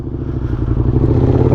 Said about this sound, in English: the full system exhaust I installed on this is a cheap eBay exhaust